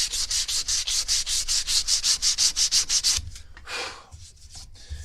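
Sandpaper of 220 grit rubbing across a knife handle in a steady run of quick, even back-and-forth strokes at close range, then slowing into a few irregular, scattered rubs with short pauses.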